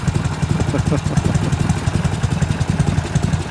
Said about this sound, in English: listen how that bike just purrs.